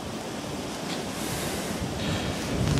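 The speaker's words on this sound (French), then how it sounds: "j'espère que le micro est pas trop emmerdé par le vent" Wind blowing steadily against a microphone beside a lake, a continuous rushing noise with no talk.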